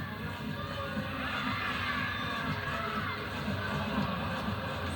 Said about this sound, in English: Crowd rises as one for Patarario